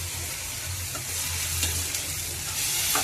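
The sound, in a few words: mango pieces frying in a pan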